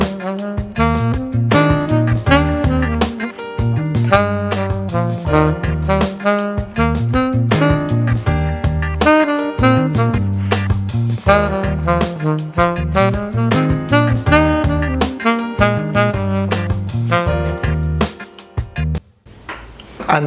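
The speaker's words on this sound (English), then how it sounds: "if I just do exactly the same thing up and down, but just throw that scale around a little bit, it will sound like this" Saxophone running up and down a scale with varied note order over a backing track from a practice app, a continuous rhythmic stream of notes played loud and close, no talking.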